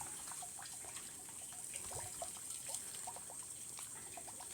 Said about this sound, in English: And watering this stuff. With this can.